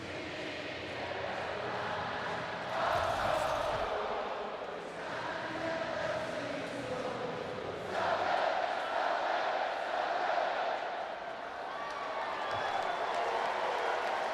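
Large crowd at Fenway Park during a Dodgers at Red Sox baseball game singing, a broad sustained roar of many voices swelling and ebbing across the stadium.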